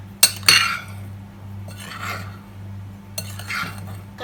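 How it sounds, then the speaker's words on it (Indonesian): Pandan cake mixture is stirred in a bowl: a few sharp utensil clinks against the bowl, followed by soft, intermittent scraping strokes at a quiet, close range. "Nah, ini diaduk dulu, diaduk sampai merata."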